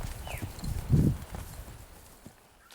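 A ridden horse moves on a training session, hooves giving a few soft, uneven clip-clop footfalls with one louder thud near the middle, fairly close, with no talking.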